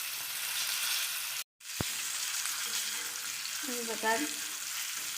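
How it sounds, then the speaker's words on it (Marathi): Fish pieces coated in flour and masala fry in a pan on a gas stove, a steady broadband sizzle running throughout with a brief cut and a clink, while a voice speaks over it. "लय झाले 5 मिनिट ह्याला तळायला"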